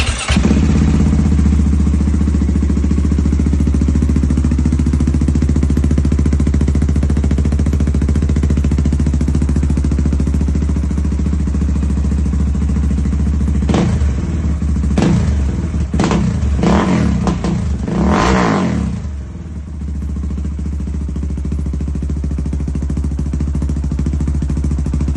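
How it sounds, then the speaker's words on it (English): A KTM SMC R 690 supermoto single-cylinder engine fitted with an Austin Racing exhaust idles with a steady low rumble, then blips through several sharp revs in quick succession before settling back to idle. "So, nice clip of the exhaust there. Sounds phenomenal."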